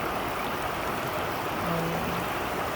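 An outdoor creek in the morning flows in a steady, full rush of water, loud and continuous, broad and unbroken, with no voices over it.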